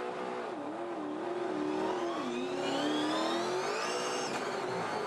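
Dunlop Super2 touring race cars launching off the grid at Phillip Island, a loud engine roar rising in pitch as revs climb, with overlapping engines and a gearchange near the end, no talk.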